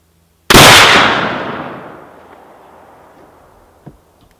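A single loud muzzleloader rifle shot from a Thompson Center or Traditions gun, a sharp blast with a long, rolling decay outdoors, then a faint distant knock.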